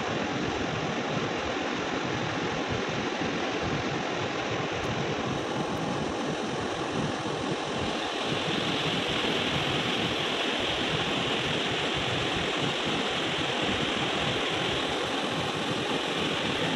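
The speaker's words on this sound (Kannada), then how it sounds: "ಈ ನೀರು ತುಂಬಿ ಹರಿಯುವಾಗ ಹೇಗಿರುತ್ತೆ ಅಂತ ನಾನು ವಿಡಿಯೋ ಕ್ಲಿಪ್ ಹಾಕಿದ್ದೀನಿ ನೋಡಿ" A river rushing in full flood makes a continuous, loud broadband roar of churning water, steady and unbroken from start to finish with no voices.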